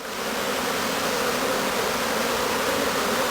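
Honey bees from Moğola buzzing in a queen-rearing starter colony hive, a dense, steady swarm drone that holds level and close throughout with no voices.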